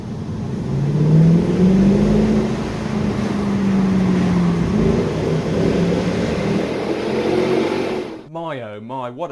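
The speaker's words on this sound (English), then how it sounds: "a car like this C63 AMG that sounds like that is just unheard of" A Mercedes C63 AMG engine revs loudly and close by at a car show, a deep rising and falling roar that swells and eases over several seconds before cutting off, with a voice speaking at the very end.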